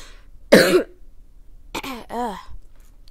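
A man coughs sharply once, then after a pause clears his throat with two rough, voiced grunts, close and alone against near silence.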